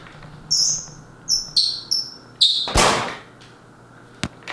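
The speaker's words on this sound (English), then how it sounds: "Where's the bird at?" A few short, high chirps from a bird come in quick bursts, followed by a loud thump and a sharp click, against quiet background hum.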